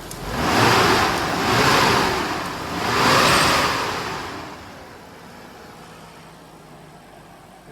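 A rebuilt RB25DET engine in an R33 Nissan Skyline GTST running, with three swelling rushes of revving noise in the first few seconds before it settles to a quieter steady idle, with no talk.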